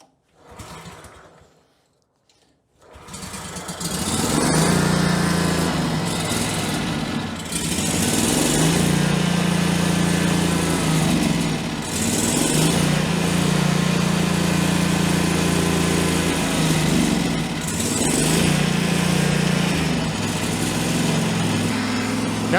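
After a few quiet seconds, a Great Dane lawn mower engine with no air filter catches and runs loud and steady, its drone swelling and dipping slightly as it hunts.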